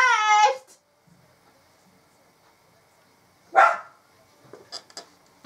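A dog indoors gives two loud, close barks separated by a few seconds of quiet, followed by a few faint knocks and small sounds.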